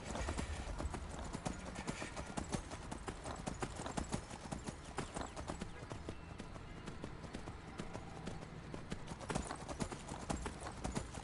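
Horse galloping in the video game Skyrim, a rapid continuous drum of hoofbeats steady throughout, close and fairly loud with no talk over it.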